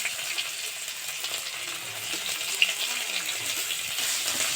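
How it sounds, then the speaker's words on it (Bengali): Chopped onion frying in mustard oil with whole cumin gives a soft, continuous sizzling hiss at moderate loudness, steady throughout with one small sharp crackle partway through. "আমি এবার পেঁয়াজ কুচি দিয়ে দেবো।"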